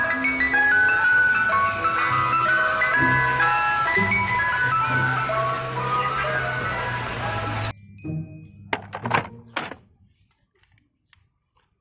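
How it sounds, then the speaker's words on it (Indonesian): An ice cream truck plays its loud, continuous jingle melody for several seconds, then it cuts off abruptly, leaving a few clunks and clicks before near silence. "Ada mobil es krim."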